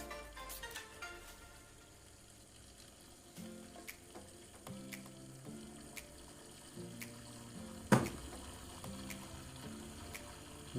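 A small decorative waterfall splashes and trickles steadily, soft and close, with a few clunks and light handling noises mixed into the constant flow.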